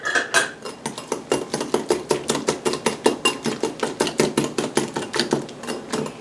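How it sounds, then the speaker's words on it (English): A whisk rapidly clinks against a bowl while stirring dried herbs and spices into a dairy-free ranch seasoning mix, producing a quick, even series of bright metallic taps that continues without a break, close and fairly loud. "Now I'm going to mix this up. Let me use a whisk, because I like to use whisks."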